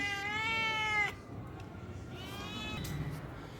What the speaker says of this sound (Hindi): बाहर से बिल्ली आई हुई है